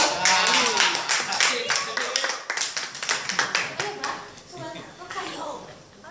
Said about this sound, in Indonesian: Aplaus untuk Citra.